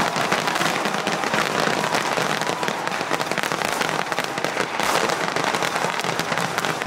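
Fireworks at the Nenmara Vela temple festival in Kerala, a dense, loud, continuous barrage of crackling blasts with no gaps, filling the whole stretch close by.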